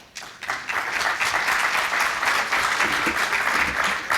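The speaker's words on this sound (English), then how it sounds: "a round of applause for the hospitality that we've been enjoying in Cartagena" An audience applauds together at an event in Cartagena, Colombia, a sustained wash of clapping that starts abruptly and stays steady and fairly close, with no speech over it.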